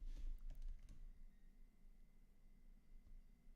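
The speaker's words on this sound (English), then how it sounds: "I'm typing it" Soft keyboard typing in a short quick cluster at the start, then faint quiet background hum, recorded close and low in level during a Formula 1 preview discussion.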